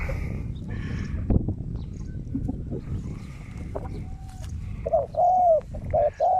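A wild spotted dove gives several deep, clear coos near the end, repeated in a short rhythmic phrase, after a stretch of low outdoor rustling and background noise.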